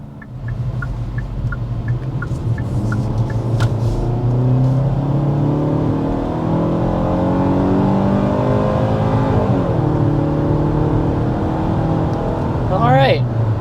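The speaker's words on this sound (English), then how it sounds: "there is an acceleration up to 60 miles an hour in the Hyundai Tucson" A 2024 Hyundai Tucson accelerates hard up to 60 mph, its engine note climbing steadily through upshifts with loud, continuous road and tire rumble from inside the cabin.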